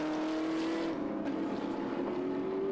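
Group A tribute Moffat Mustang race car at the Winton Festival of Speed, engine note droning steadily and loud with a slowly rising pitch as it passes, held throughout without a break.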